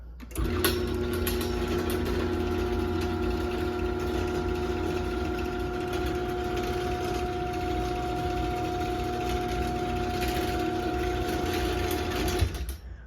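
A LiftMaster 1265-267 garage door opener runs with a steady, loud mechanical hum and whine. It starts with a clunk, holds an even tone for about twelve seconds, and stops with another clunk.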